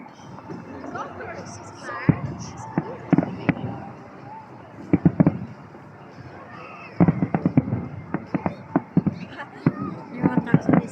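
Fireworks exploding at a New Year celebration, sharp bangs and crackling bursts in irregular clusters, some close and loud, with people talking throughout.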